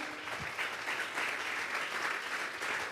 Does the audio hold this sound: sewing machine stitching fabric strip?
no